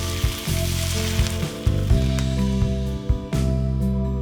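Water poured into a hot wok with ginger, garlic, chili and scallion whites gives a loud, close, continuous sizzle, surging in several bursts with no talking.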